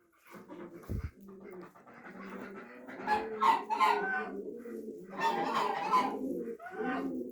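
A drake quacks in a string of raspy, nasal bursts, fairly close, with a dull thump early on and other fowl-like clucking mixed in.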